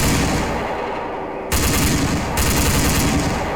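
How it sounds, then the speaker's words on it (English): Mounted machine gun on a Black Hawk helicopter in a Roblox game fires in sustained loud bursts, with a steady rapid rattle that resumes after a brief pause. "you can also use the machine gun up top here, which I'll show you how to use"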